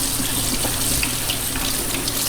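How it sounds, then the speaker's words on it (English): A potato is rinsed under a running kitchen tap, a steady close hiss and splash of water falling into the sink with no pauses. "Now we're going to rinse the potato."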